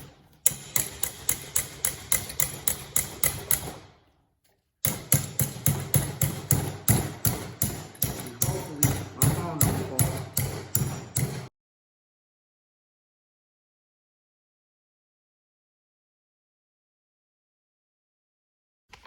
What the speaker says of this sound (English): So now I'm gonna just use the hammer